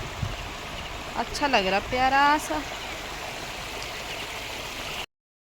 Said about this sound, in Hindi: यहाँ पे प्यारी सी छोटी सी नदी भी बह रही है